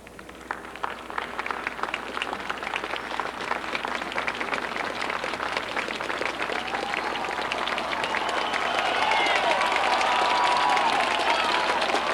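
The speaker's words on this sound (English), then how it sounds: "Big cheer going up for Jim Gardner. As you can hear" A crowd at the 1989 North Carolina gubernatorial inauguration cheers and applauds for Jim Gardner, dense sustained clapping that swells louder toward the end, with scattered voices mixed in.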